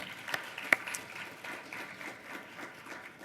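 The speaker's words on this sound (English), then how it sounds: "So let's give a round of applause for all of our speakers" Audience applause for a panel of speakers at a staff conversation event, a steady wash of many hands clapping at moderate distance with a few sharper individual claps standing out.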